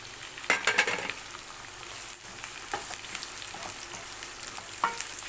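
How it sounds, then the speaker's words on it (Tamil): Onions for prawn thokku fry in a pan with a soft, steady sizzle broken by a few sharp utensil clatters near the start and end. "ஆனியன் நல்லா வதங்கட்டும்"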